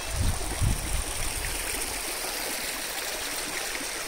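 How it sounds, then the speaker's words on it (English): Steady water stream flowing along a pathway near a homestay, a continuous soft rushing hiss with a couple of low thumps at the start. "The same stream of water you will hear even after going home."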